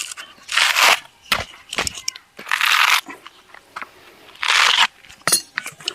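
Rice grains crushed into powder inside a packet give loud, rough crunching bursts separated by pauses, mixed with sharp crinkling taps, close up.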